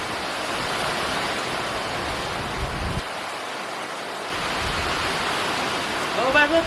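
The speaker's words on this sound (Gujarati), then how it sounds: "વરસાદ શરૂ થઈ ગયો છે જો" Heavy rain pours down on a farm in a steady, dense hiss that dips briefly near the middle and then returns at full strength.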